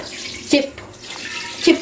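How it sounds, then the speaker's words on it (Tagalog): Water runs from an opened kitchen tap during cooking prep, a steady soft hiss broken by two brief clunks, with faint voice sounds nearby. "Try bukas mo yung gripo."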